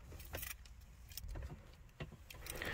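Car keys jangling in short bursts while someone searches for the key of a Grand Prix 2+2, faint metallic clinks scattered over quiet background rustle.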